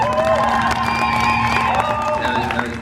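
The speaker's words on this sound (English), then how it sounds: "Let's give him a round of applause." Outdoor gathering crowd cheering and whooping with some clapping, a loud, dense burst of voices and applause filling a short moment.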